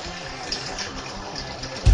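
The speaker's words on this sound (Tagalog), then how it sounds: "Pagbukas pa lamang ng gripo, ganito na karumi ang tubig na tumataga sa mga tahanan" Muddy, foul water gushes steadily from a newly opened household faucet in Barangay Santo Niño, San Pedro, Laguna, a constant close broadband rush with a louder splash at the very end.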